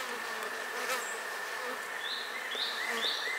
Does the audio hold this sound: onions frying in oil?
no